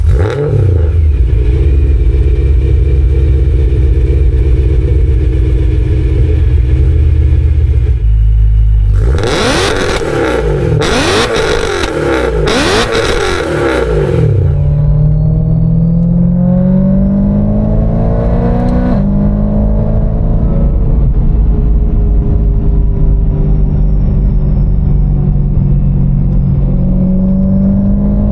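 A loud supercharged S65 V8 engine in a BMW 1M clone idles roughly, then revs hard in several sharp bursts before settling back to a deep, rumbling idle with a faint supercharger whine.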